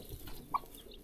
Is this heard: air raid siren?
no